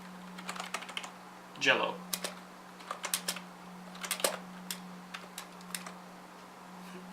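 Typing on a Lexma LX 6000 budget computer keyboard, a close run of uneven key clicks with a steady hum underneath and a brief spoken word partway through.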